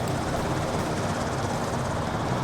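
A helicopter in the aircraft-carrier video game Carrier Deck gives a steady, dense rotor and engine drone, loud and constant throughout with no talking.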